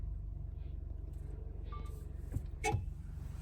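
Vehicles stuck in a traffic jam on the snowy Baralacha Pass road in Ladakh give a low, steady engine rumble, with a couple of brief knocks and a short mechanical whir near the end.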